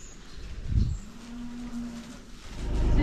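A single low, drawn-out moo from cattle on a farm, mid-distance, set against outdoor ambience with a brief thump before it and rising rumble after.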